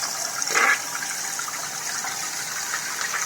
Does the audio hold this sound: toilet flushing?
yes